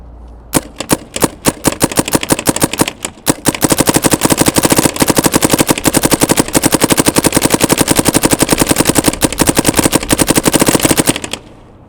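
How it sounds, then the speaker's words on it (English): A paintball gun, a Dye M3s, fires paintballs, first in scattered single shots and then in a long, loud, rapid string of steady shots lasting several seconds, with no talk. "Let's start shooting some paint."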